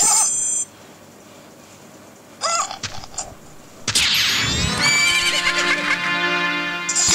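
Horse neighing in the video game The Legend of Zelda: Majora's Mask 3D, a loud harmonic whinny rising after a short chime and bursts of game effects, then holding steady for several seconds.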